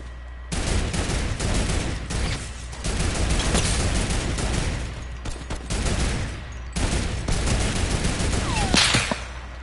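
Gunfire in the Fortnite video game is aimed at a turret, with dense rapid bursts of shots in repeated volleys over several seconds, loud and close, separated by short gaps.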